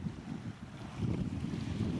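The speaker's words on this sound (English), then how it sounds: "There's a lot of wind here" Strong wind gusting across a remote rocky sea coast near Tater Du Lighthouse at low tide, a steady low buffeting roar with mic rumble that swells louder midway and holds, no voices.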